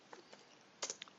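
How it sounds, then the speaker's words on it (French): Keys tapped on a computer keyboard while writing an email subject line, a few soft scattered clicks followed by a brighter cluster of quick keystrokes, close and quiet with no voice. "je tape objet"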